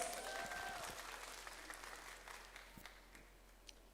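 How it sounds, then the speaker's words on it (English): Audience applause at a Manipur University tribal week cultural event following the introduction of singers and artists, a fairly soft wash of crowd clapping that fades gradually, with a few scattered claps lingering toward the end. "Can we give a round of applause?"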